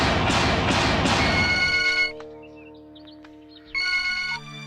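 A telephone rings loudly several times in bursts, then falls quiet before one more ring starts, with no talk over it.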